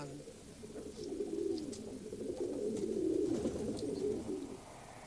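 Pigeon cooing: a low, throaty warbling coo that swells and rolls on for several seconds, close by and fairly clear over a quiet background.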